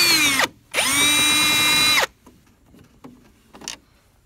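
Cordless power drill backing screws out of a Dodge Ram Promaster 2500 headlight assembly, a loud close whirring run of about a second and a half after a short burst, followed by faint handling clicks.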